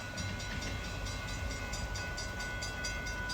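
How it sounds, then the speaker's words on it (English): A CSX auto rack freight train passes close by in rainy Miamisburg, Ohio, a steady loud rumble with rhythmic clacking from the cars going by and no talk. "got another CSX coming north here"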